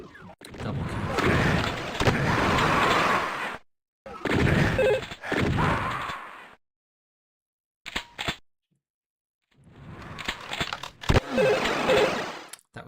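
A rocket blast in a capture-the-flag first-person shooter match, sharp booming impacts among bursts of loud, noisy gunfire and explosions, separated by short gaps of silence.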